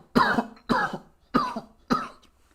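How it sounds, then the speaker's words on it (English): Four short, harsh coughs come one after another at a steady pace, close up, with brief pauses in between and no talking. "I don't know why I've been coughing lately."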